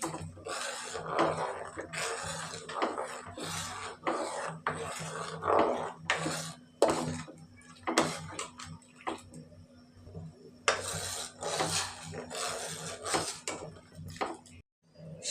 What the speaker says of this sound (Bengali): সাবুদানাটা দিয়ে নাড়তে হবে এই যে আমি নেড়ে নিচ্ছি